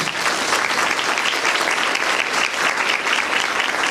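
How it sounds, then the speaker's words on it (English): An audience at a school district's Teacher of the Year celebration gives sustained, dense applause for the event sponsors, loud and even throughout. "let's give them a round of applause as well"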